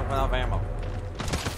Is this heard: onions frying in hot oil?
no